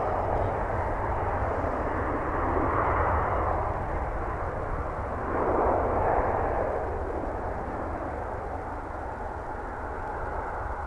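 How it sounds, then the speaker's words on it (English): Jet airliners taking off from a runway at Dallas Fort Worth Airport, a steady broad roar that swells and fades slightly as each aircraft passes, with no talk over it. "We now have a parade of aircraft, and we're just going to show them taking off on Runway DFW."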